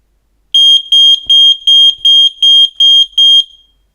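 An Ajax Systems home alarm siren sounds in a live test: eight loud, piercing, evenly spaced electronic beeps, alone, then a brief fading tail.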